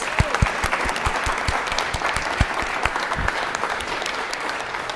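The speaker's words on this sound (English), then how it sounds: "Can we get another hand clap for Jasmine Combs?" Audience applause at a First Friday art event at The Delaware Contemporary, dense clapping from a crowd with a few individual sharp, close claps standing out at an irregular rhythm, steady in level.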